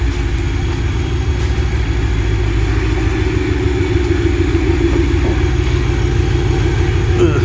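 Boosted Ford Mustang GT with a supercharger, running steadily with a loud, constant whine over a low engine drone, close by and unbroken throughout.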